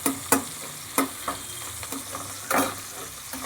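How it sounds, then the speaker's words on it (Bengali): Onions frying in oil until reddish-brown, a steady close sizzle broken by several crisp stirring scrapes and spatula knocks against the pan, with no talking. "এইবার পেঁয়াজটাকে একটু লাল লাল করে ভেজে নেব"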